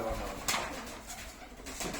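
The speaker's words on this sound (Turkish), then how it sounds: "Bak arkadaşlar kuşların hepsi oynuyor böyle." Pigeons coo softly over a steady low rumble, with several fuller calls rising near the half-second mark and again toward the end, from a flock kept by a Turkish pigeon breeder in Pendik, Kurtköy.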